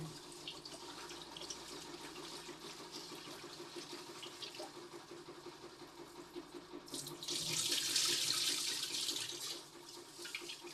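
Water runs from a tap into a kitchen sink, a low steady trickle that swells into a louder, fuller gush partway through before easing back, close by with no talk.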